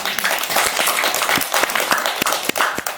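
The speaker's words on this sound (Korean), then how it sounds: "박수 한번" Audience applause at a film screening Q&A, a dense, even patter of many hands with a few sharper individual claps poking through, steady from start to finish.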